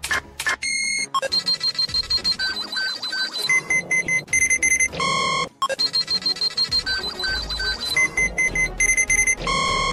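A detector device in a manga-themed sketch sounds a loud electronic alarm, insistent repeating beeps and tones cycling through the whole stretch, briefly breaking off midway before starting again.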